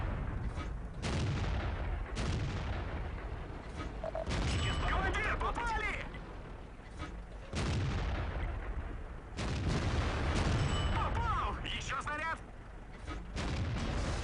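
Heavy shots and booming gunfire from the survival game Rust come in two loud clusters separated by quieter stretches, with players talking through much of it.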